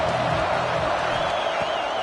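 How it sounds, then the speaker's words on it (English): A football stadium crowd roars on third down, a dense, sustained wash of cheering and noise from many voices that holds steady throughout. "crowd getting this defense whipped up on 3rd down"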